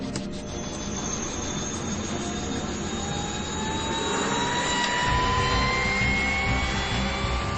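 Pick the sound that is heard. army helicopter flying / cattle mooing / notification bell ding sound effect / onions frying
army helicopter flying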